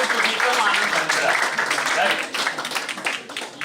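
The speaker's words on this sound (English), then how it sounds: "So big applause for everyone sitting over here." An audience in a hall bursts into applause during a student innovation fest talk, a dense burst of clapping that stays strong for a few seconds before thinning out.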